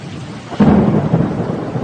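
A thunderstorm with rain: a loud, close thunder rumble breaks in over a steady hiss of falling rain and rolls on for the rest of the moment, with no voices.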